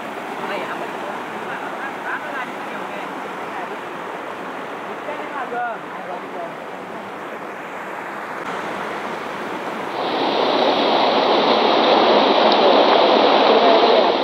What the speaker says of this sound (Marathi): आणि हा वाहता झरा आहे पाण्याचा